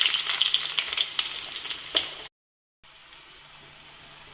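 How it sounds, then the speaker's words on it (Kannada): Chopped onion sizzles and crackles loudly as it hits four to five spoons of hot oil for a cabbage palya, with bright spitting bursts at first. After a brief cut to silence, a softer, steady frying hiss continues. "ಕಾದಿರುವ ಎಣ್ಣೆಗೆ ನಾವು ಕಟ್ ಮಾಡಿರ್ತಕ್ಕಂಥ ಆನಿಯನ್ನ ಫಸ್ಟ್ ಹಾಕೊಂಡು"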